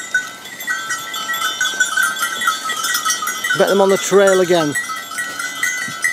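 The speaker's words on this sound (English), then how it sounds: "Goats." Goats bleating on an outdoor trail, a few loud wavering calls near the middle over steady birdsong and a faint bell, with a person talking briefly.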